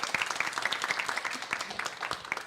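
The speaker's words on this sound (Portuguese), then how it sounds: "Salva de palmas para Tabata Amaral" A small audience on a Brazilian talk show claps for congresswoman Tabata Amaral, with brisk distinct hand claps in a quick irregular patter, moderately close and fading slightly toward the end.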